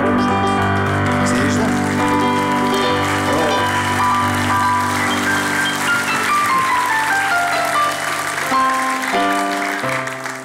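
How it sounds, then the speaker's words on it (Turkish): A studio audience on a Turkish TV comedy show claps to welcome a guest, dense steady applause under loud music throughout. "Alkışlarla davet et Arap müşteriyi."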